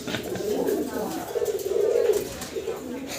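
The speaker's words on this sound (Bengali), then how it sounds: "নর সামনে ডাকাডাকিতে ব্যস্ত, পিছনে চুইটাল হচ্ছে মাদিটা" A male Mousaldam pigeon cooing in low, rolling, repeated phrases close by, with a person talking over it.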